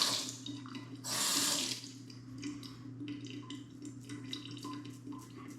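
Bathroom tap running while a man shaves with a Razor Emporium REX 1955 razor, a steady faint stream of water with a louder gush near the start and light splashes, heard alone without speech.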